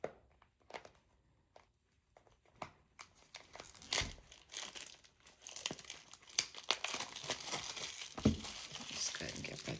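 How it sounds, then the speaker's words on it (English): Close, crisp crinkling and tearing of thin plastic wrap being pulled off a small box, in irregular bursts that build from sparse rustles to a steady busy crackle. "Just go ahead and get rid of that plastic."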